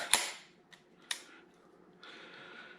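A CZ Shadow 2 competition pistol, derived from the CZ75, being checked clear: a sharp metallic snap, a faint click, another crisp snap, then a soft sliding rasp, close and quiet with no talk.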